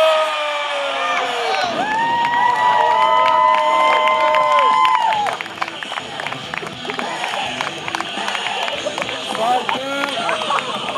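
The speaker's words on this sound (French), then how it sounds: "On peut applaudir Cypher." A wrestling show crowd cheers, whoops and claps as a wrestler is introduced, with loud shouting and held tones at first, then scattered clapping and cheering under continued announcer talk.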